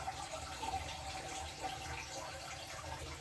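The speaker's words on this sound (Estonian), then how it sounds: "Kraanist lasen tulise vee." Hot water running steadily from a kitchen tap into a small bowl, a continuous soft splashing hiss with no voices.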